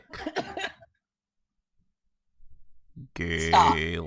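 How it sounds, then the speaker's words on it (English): A woman coughs in a quick cluster of sharp bursts close to the microphone, followed by a pause and then a voice talking. "You could probably still hear her coughing behind me."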